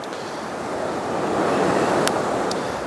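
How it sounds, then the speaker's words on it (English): Ocean surf crashes against the sea caves and rocky cliffs at Sunset Cliffs in San Diego, a steady loud roar of breaking waves that swells midway, with wind noise and no voices. "The waves crash on it, looks really cool."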